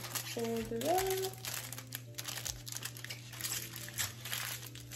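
Material crinkles and crumples as it is folded up around a freshly bleached section of hair during at-home bleaching, a close, steady rustling crackle that runs through the whole stretch, with a brief voice early on.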